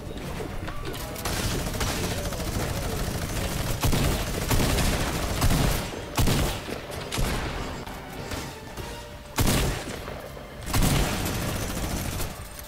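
Repeated gunfire and explosive bursts in Fortnite, a dense, loud stream of shots with several sharp spikes over continuous game noise and some faint voices.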